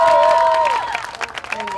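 Audience applause with some cheering, a short burst of clapping close by that thins out and scatters over under two seconds.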